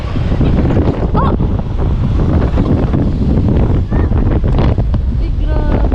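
Strong ocean waves and gusting wind roar continuously at the shore, loud and close, with heavy wind buffeting the microphone and people exclaiming faintly beneath the din.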